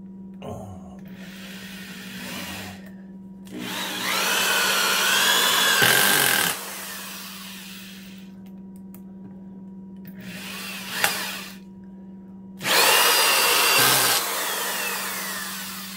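A Porter-Cable 7533 adjustable torque screwdriver runs 3-inch deck screws into wood in three loud whirring bursts of a few seconds each, separated by quieter pauses with a low hum and a sharp click.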